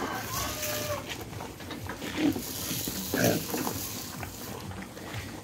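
Pigs in a farm pen, with a few grunts and a louder squeal-like call breaking through steady barn noise, while a person talks nearby.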